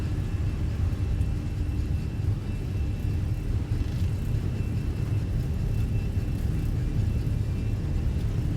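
Airbus airliner jet engines at takeoff thrust during the takeoff roll, heard as a steady, deep, continuous roar and rumble from inside, with no talk over it.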